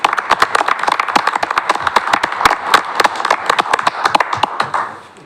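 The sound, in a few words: audience applause at a parks board meeting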